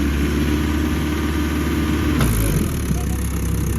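Mahindra 575 tractor engine running loud and steady with a deep low rumble on an off-road outing, shifting in pitch midway as it is revved, with no talk over it.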